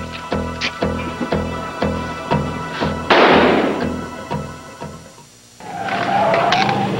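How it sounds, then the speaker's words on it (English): A rapid series of sharp, loud bangs in a steady rhythm, followed by a heavy burst and a short lull, then a rising noisy rumble. "Gunshots heard inside the safe house."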